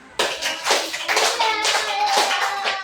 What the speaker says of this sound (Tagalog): bigyan nga daw natin yung ating mga sarili ng 5 palakpak